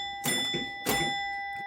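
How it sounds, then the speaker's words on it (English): A large 10-100 bell on a Magic City pinball machine rings twice, each strike a bright sustained ring with long decaying overtones, close and clear with no talk. "I just put in the large bell."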